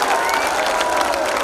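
Crowd applause at a Hindi poetry gathering in Banswara, a dense, continuous clapping from many people, fairly loud and unbroken, with some voices mixed in.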